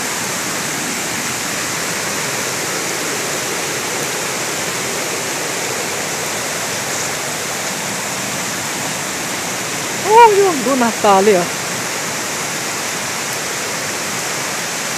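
A waterfall pours in a steady, unbroken rush of broadband roar that fills the whole stretch, with a short burst of a person speaking partway through over the constant water noise.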